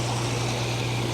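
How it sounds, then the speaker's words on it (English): Pumps on a Viking hot tub run with the jets on, giving a steady, close mechanical hum with a low tonal drone under a broad rushing wash of water, unchanging throughout. "You can hear the pumps running on the hot tub in the background here."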